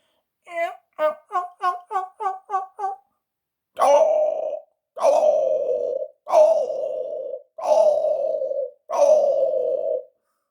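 A voice imitates a turkey hen: a quick run of seven short yelps, then five longer, drawn-out nasal calls evenly spaced, close and fairly loud.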